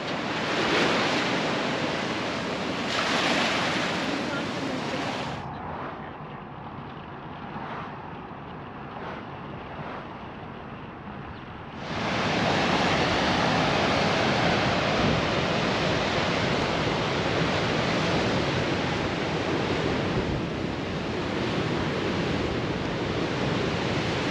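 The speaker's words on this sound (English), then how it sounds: "Those waves are crazy." Ocean waves break on the North Shore of Oahu in a loud, continuous roar of surf, easing briefly in the middle before surging back to full strength, with no voices.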